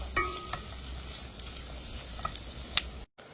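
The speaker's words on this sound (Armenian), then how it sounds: "Մի քանի րոպե տապակում ենք միասին։" Chopped onion and mushrooms fry in oil in a pan, giving a steady soft sizzle with a few light stirring clicks, close and even throughout.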